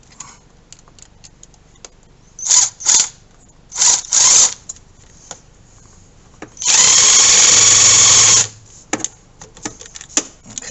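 A power tool tightening a catch can fitting on a 2020-or-later Ford F150 EcoBoost, with short close bursts of whirring, one long sustained run, and scattered clicks and handling noises between them, no talk.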